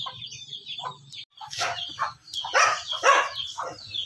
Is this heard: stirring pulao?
no